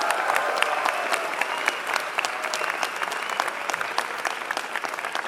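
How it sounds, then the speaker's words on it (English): Steady applause from an audience at a business school graduation ceremony claps on without a break, fairly close and even in volume. "Let's clap it up for them."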